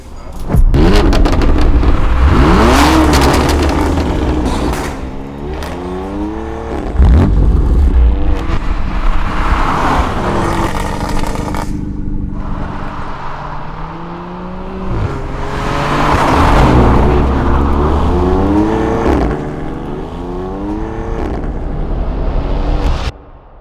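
A BMW M4 convertible drives and accelerates hard on a hot day, the engine revving up through several gears in loud repeated surges with brief easing between pulls, no one talking over it.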